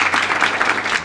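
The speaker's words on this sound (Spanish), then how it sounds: "recibamos también un aplauso a Roberto Maldonado" A brief burst of audience applause for a guest on a live Spanish-language comedy talk show, a dense wash of many hands clapping at once, loud and steady for about a second.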